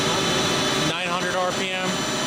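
A Lucas 542B-84 five-axis CNC table-type horizontal boring mill spindle turning at 900 RPM, a steady mechanical hum and whine that dips briefly midway, with a voice speaking over it.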